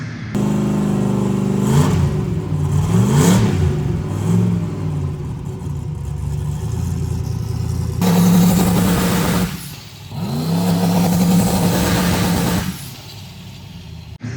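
A turbocharged 5.3 V8 in a 1,000-plus horsepower Camaro project car revs hard in a close, loud run of rising and falling sweeps, with a short drop near the end before it climbs again; no voices.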